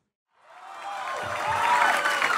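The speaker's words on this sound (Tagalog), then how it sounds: "Ngayon pumapalakpak po kayo." An audience applauding at a talk about preparing for success: clapping rises from silence into steady, dense applause that builds and holds, with a faint murmur of the crowd underneath.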